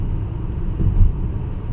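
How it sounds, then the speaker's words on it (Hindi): A car cruises along a road at about 60 km/h, producing a steady low rumble of engine and road noise, close and continuous, with no talk over it. "ये हमारी गाड़ी चल रही है बिल्कुल आराम आराम से"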